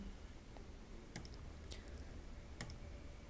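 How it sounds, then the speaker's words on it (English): Computer mouse clicks on Windows dialog buttons, a few faint sharp clicks spaced irregularly over a quiet room hiss, with no talking. "then click apply and OK"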